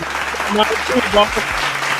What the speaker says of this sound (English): let me clap it up